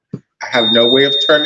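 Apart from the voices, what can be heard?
alarm system beeping at a workplace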